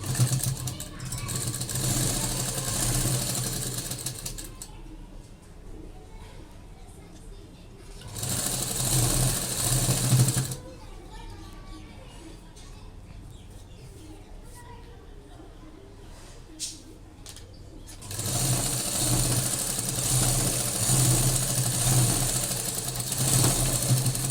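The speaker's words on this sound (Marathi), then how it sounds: "आता आपण इथे शिलाई सरळ मारून घेऊ." Electric sewing machine stitching a straight seam on a lined blouse, with loud whirring bursts that start and stop three times, someone talking during the quieter pauses.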